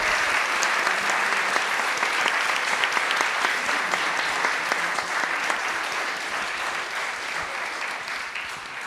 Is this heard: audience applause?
yes